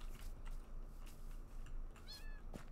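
Minecraft cats meow in a video game, a few soft, short mews rising out of a quiet low background hum, spaced apart near the end.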